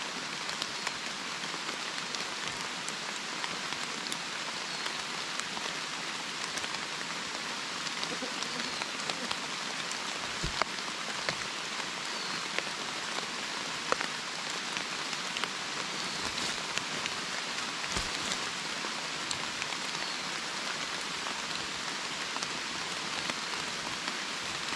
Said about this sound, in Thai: โอ้ฝนตกครับผม